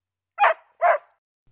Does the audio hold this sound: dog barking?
yes